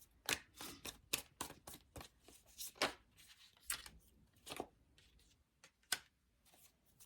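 Tarot cards are shuffled and drawn in a string of crisp, close riffles and slaps, separated by short quiet gaps, with no talk.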